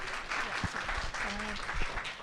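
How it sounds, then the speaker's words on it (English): Audience applause at a closing ceremony as a speaker comes to the stage, a steady clapping wash with a voice and low sounds breaking through. "Please have a warm applause for her."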